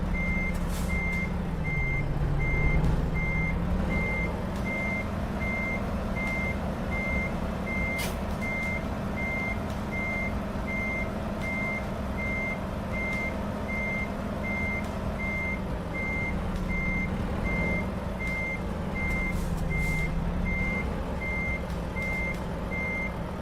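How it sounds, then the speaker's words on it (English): Steady reversing alarm beeps repeat evenly throughout as a truck backs up its trailer in American Truck Simulator, with a low engine rumble underneath that dips and rises in pitch, alone with no talking. "I'm used to backing up 53-foot trailers."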